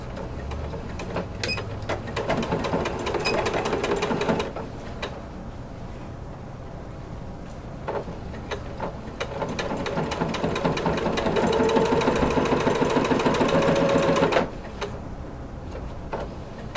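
A sewing machine stitching bias tape into a corset bone casing, running in two long bursts separated by a pause, close and steady with a mechanical hum and rapid needle clatter.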